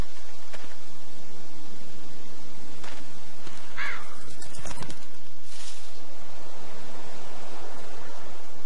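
Cooing pigeon or dove in The Walking Dead video game, a few soft calls near and moderately loud over a diffuse outdoor ambience with a brief flutter.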